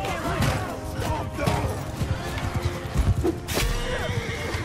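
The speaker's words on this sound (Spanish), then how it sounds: "estoy viendo uno a caballo" Horses neigh loudly and hooves clip-clop in Mount & Blade II: Bannerlord, with repeated whinnies over a busy battlefield background. The calls and hoofbeats come close, with faint voices underneath.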